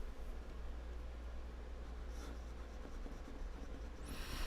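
A fountain pen with a smooth cursive italic nib writing on paper, a soft continuous scratching rustle close up and faint, with a brief louder stroke near the end.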